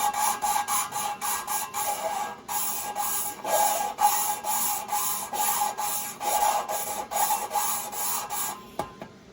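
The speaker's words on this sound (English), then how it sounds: "here's the valve grinding machine. Just do this. This is called lapping." Valve lapping on an engine cylinder head with grinding compound for a Coleman generator, producing a steady run of dry, rhythmic scraping and rasping strokes, close up, with a brief tap near the end and no talking.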